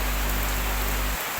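Rain falling at Lembah Tepus in Bogor, heard from under shelter: a brief, dense, steady hiss of drops, close and even.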